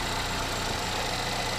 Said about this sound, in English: And of course, the nice engine.